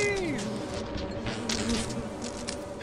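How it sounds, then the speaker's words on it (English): Swarming bees in the Lethal Company video game buzz steadily and densely throughout, a close, continuous drone with a few rising and falling whines. "why is there so many bees?"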